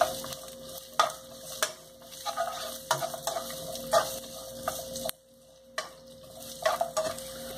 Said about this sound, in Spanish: vas a agregar las cebollas que tenías fileteadas. Y vas a mover para acitronar un poco